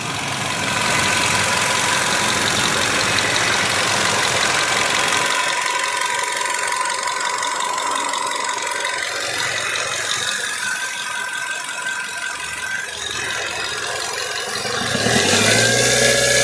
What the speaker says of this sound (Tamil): இப்போ இந்த வண்டியோட இன்ஜின் சவுண்டை நான் மைக்கை பக்கத்துல வச்சு காட்டுறேன்